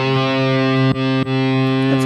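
Electric guitar run through Harley Benton 808 Tube Screamer and Brit Plexi amp models with EL34 power-tube emulation and a noise gate, sustaining a loud distorted chord with brief string-muting breaks, played alone.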